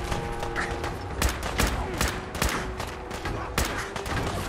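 Rapid bursts of gunfire from Fallout 4 crackle through dense in-game combat, overlapping shots and volleys mixed with explosions and ambient noise, with someone talking intermittently over the battle.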